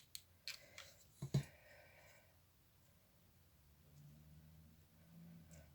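Scissors snip through paper-like flower petals for a hanging heart wedding bouquet: a few crisp, close cuts come in quick succession early on, then the room falls to a quiet hum.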